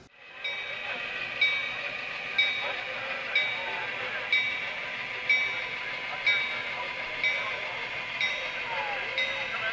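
Recorded arrival of Colorado and Southern number 18, the Texas Fast Mail, played through a model railroad sound recorder: a steady rumbling train sound with regular rhythmic clicks about once a second, no talking.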